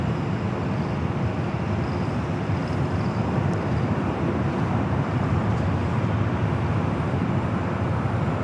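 Airliner taking off from runway 24 left at LAX, a steady broadband roar of jet engines that holds loud and unbroken from start to finish, with no voices.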